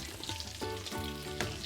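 Pork chops seasoned with salt, pepper, garlic and paprika sear in a pan of dark butter, giving a steady close sizzle and crackle throughout, with a few louder spits of fat near the end.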